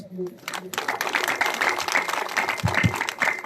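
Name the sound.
audience applauding a welcome at a rally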